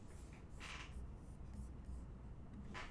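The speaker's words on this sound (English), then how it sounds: "I'm just going to draw the disk." Pen scratching across paper while drawing a disk diagram for a physics problem, a few soft strokes in short bursts, quiet and close, with no talking.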